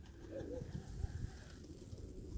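A pigeon coos softly and low, its muffled burbling calls close by under faint outdoor background hiss, with no talking.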